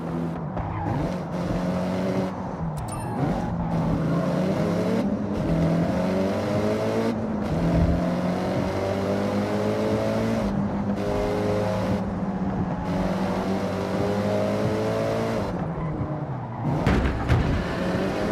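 A rally car drives off-road in Forza Horizon, a video game, over asphalt, loose gravel and dirt, its engine droning and revving through gear changes with intermittent tire skids and bumps, loud and continuous.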